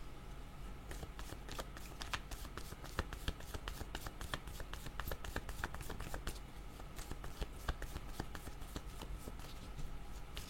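Playing cards handled and shuffled for a hidden-card reading, giving a steady run of crisp, close riffling snaps and flicks throughout with no pauses.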